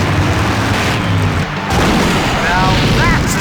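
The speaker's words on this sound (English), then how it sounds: "Now that's an explosion, ladies and gentlemen." Explosion in the 1995 video game Full Throttle, a loud sustained rumbling blast with low booming energy filling the whole moment, with a voice speaking over it near the end.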